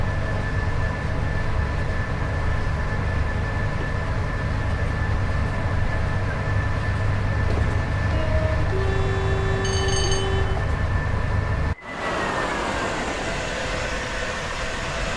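Train rolling in Train Sim World 6 on the West Coast Main Line near Crewe, a steady low rumble with a high ringing rail-singing whine and brief tonal squeals, then an abrupt cut to a brighter, thinner running sound.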